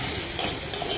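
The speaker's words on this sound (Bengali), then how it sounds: "একটু লঙ্কার গুঁড়ো আর ধনে গুঁড়ো সব দিয়ে কিন্তু আমি মশলাটাকে কষিয়ে নেব ভালো করে" Chili powder and coriander powder with other spices sautéing in hot oil in a pan for a Bengali pointed gourd (tel potol) dish: a steady, close sizzle with brief scraping stirs.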